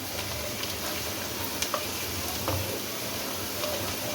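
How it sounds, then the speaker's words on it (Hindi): Onions with a cinnamon stick and cumin seeds frying in a pot for chicken pulao, a steady low sizzle and crackle throughout with a few faint ticks, no talking. "अभी प्याज में अच्छे तरीके से भून लें ताकि मसाले की भी प्याज के अंदर अच्छी सी खुशबू"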